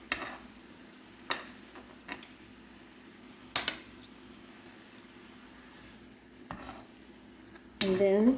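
Pork chops being stirred and coated in a honey-garlic sauce in a pan, with a low steady sizzle under scattered clinks and scrapes of a utensil, and a louder burst of sizzling and stirring near the end.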